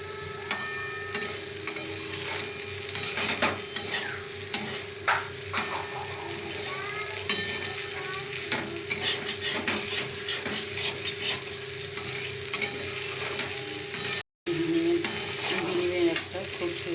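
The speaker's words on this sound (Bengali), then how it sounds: "আর একটু আমি নেড়ে চেড়ে নেবো।" Egg pasta with soybean is stirred in a sizzling pan. Steady frying hiss runs under regular scraping and tapping strokes of the spoon, close up and clear throughout.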